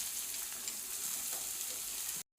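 Onion sizzling steadily in hot oil with cumin, mustard seeds and curry leaves, a dense continuous frying hiss close up, no voices, cutting off abruptly at the end.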